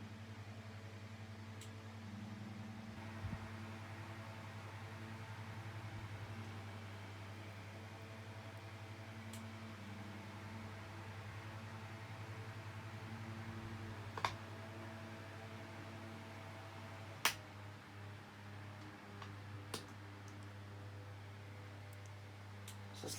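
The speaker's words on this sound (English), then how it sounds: "So slow speed down on oscillation." A Tesco DF96 9-inch desk fan runs on slow speed while oscillating, giving a faint, steady motor hum with a low tonal whir and a few soft clicks from the motor housing.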